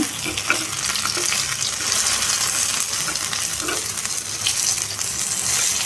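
Sabudana paddu frying in an oiled paddu pan, a steady dense sizzle running throughout with a few faint clinks on top.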